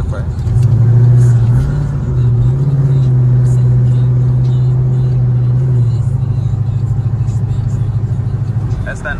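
A Coyote-swapped Ford Foxbody Mustang's engine drones low and steady from inside the car while driving, with a slight rise in pitch early on. People talk over the engine throughout.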